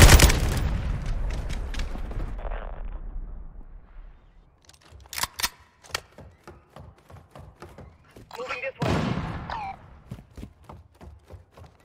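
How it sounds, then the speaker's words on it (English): Cruise missile strike in Call of Duty Modern Warfare 2 multiplayer: a loud, close blast opens and rumbles away, followed by scattered sharp gunshots and another burst of explosive noise later, with voices heard between. "Hostile cruise missile incoming."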